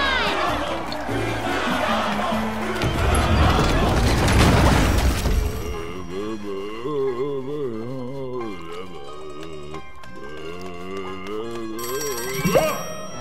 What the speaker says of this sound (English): Everybody keep cheering Kutaro on!